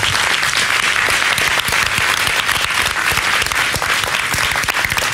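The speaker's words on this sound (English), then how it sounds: "Give her a round of applause" A studio audience claps in loud, dense, sustained applause that holds at an even level throughout, with no individual voices standing out.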